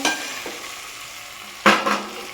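Goat trotters frying in a pan, a steady close sizzle with a few sharper bursts of spattering and stirring partway through.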